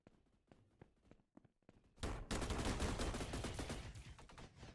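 Rapid machine gun fire in a Roblox Call of Duty-style shooter: scattered sharp shots at first, then a dense, loud sustained burst of automatic fire that keeps going to the end.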